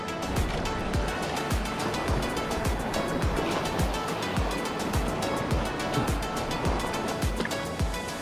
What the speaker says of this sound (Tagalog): Lalaki nga ang alon doon